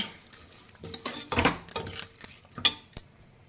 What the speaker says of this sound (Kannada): ಒಂದು 2 ನಿಮಿಷ ಮಿಕ್ಸ್ ಮಾಡೋಣ